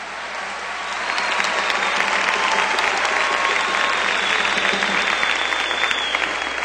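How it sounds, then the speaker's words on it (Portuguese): A church congregation at a Canção Nova retreat applauds after a scripture reading, clapping rising quickly after a quiet start into a steady, full round of applause that continues to the end. "Pode aplaudir a palavra."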